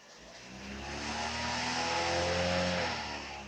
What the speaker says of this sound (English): I'm going to raise the RPM a tiny bit